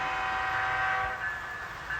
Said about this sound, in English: now he's using it to start the train